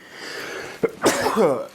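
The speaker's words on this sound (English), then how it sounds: "with added sneeze" A sharp, close sneeze bursts out of a low background hum, followed by a brief voiced exhale.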